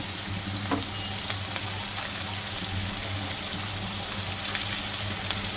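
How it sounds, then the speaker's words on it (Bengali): Onion and ginger-garlic paste fry in hot oil with a steady, close sizzle, while occasional soft stirring scrapes come through the crackle and no one speaks. "তারপরে একটু নাড়ানাড়ি করলাম"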